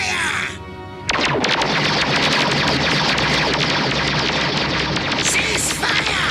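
Cartoon gunfire from a G.I. Joe episode: a sustained, dense burst of rapid automatic shots and blasts fills the scene loudly after a brief shouted command, continuing for several seconds with a few louder zaps near the end.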